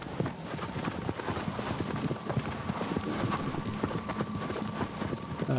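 Horse hooves clip-clop at a steady trotting rhythm in Shadow of the Colossus, with a continuous background of game ambience.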